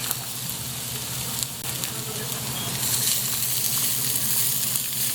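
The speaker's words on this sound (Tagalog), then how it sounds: "Continuously gisa-gisa natin yan hanggang maging brown or maging translucent naman yung sibuyas" Garlic and onion sauté in a hot pan with a steady, dense sizzle throughout, growing slightly louder partway through as the cook keeps stirring; no voices.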